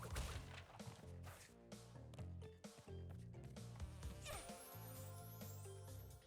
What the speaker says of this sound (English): Yep, the bees are a lot faster.